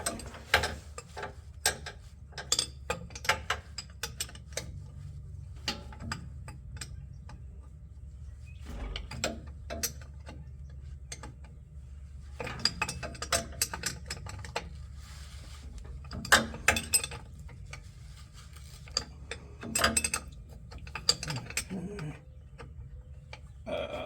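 A ratchet wrench tightening the bolts on a first-generation truck's center support bearing, giving bursts of rapid clicking separated by quiet pauses, fairly close.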